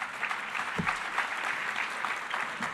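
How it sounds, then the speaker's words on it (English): Applause from the audience for a panel at a Hispanic leadership summit, a steady crowd of hands clapping evenly through the whole stretch at moderate loudness, with a brief low thump near the start. "How about a round of applause for our panelists?"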